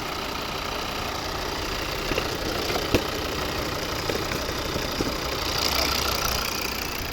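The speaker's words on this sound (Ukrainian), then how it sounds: "Ось робота двигуна." The 2.0-litre five-cylinder D3 diesel engine of a 2011 Volvo V50 with automatic transmission idles steadily nearby with a low, even rumble and faint ticking, and no voices.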